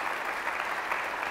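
An audience at a town-hall event with Senator Cory Booker gives steady, dense applause filling the entire brief moment at an even loudness.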